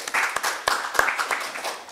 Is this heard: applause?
yes